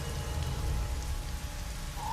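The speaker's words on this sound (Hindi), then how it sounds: "इस तेज़ बारिश की बूंदें शरीर पर सुई चुभना सा लग रहा था।" A heavy downpour, used as a horror-story sound effect, hisses steadily and densely at moderate volume, with no voices or thunder.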